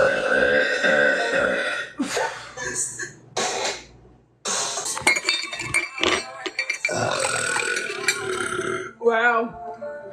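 Deep, drawn-out burps from a woman come in a series of loud, resonant belches with short gaps of quiet between them.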